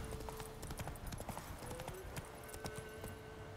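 Horse hooves clip-clop steadily in The Witcher 3 video game, a continuous rhythmic trotting over a busy game soundscape with a faint tonal hum.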